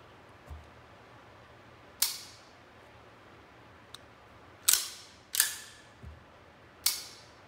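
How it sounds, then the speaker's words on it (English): Kimber 1911 Raptor II pistol dry-fired after cleaning: several sharp metallic clicks and snaps spaced irregularly, close and crisp against a quiet room, with faint handling thuds between. "So we'll do a little dry fire test."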